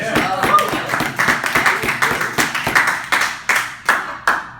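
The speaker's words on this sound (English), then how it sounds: "We get a round of applause for this." Clapping at a business meeting, a handful of people in a fairly loud, close burst that settles into a few separate rhythmic claps and fades out.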